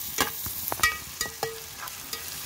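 Tomatoes stirred and frying in a pan over a wood-fired village stove while cooking country chicken, with a soft steady sizzle and several sharp scraping strokes of a utensil, close and without talk.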